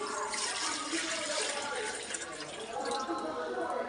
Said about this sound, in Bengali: কড়ার মধ্যে দিয়ে দিচ্ছি জল।